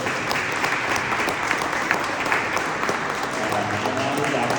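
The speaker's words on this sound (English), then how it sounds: "So please give a round of applause for her too" An audience gives a sustained round of applause at a Vijayadashami presidential address, dense clapping at an even level from start to finish with no speech over it.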